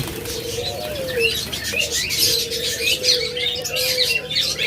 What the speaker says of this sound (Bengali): রয়েছে অসংখ্য পরিমাণ ঝাপা পাখি।